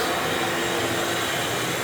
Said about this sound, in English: when I flip the switch right here, it should turn on the vacuum, which it does.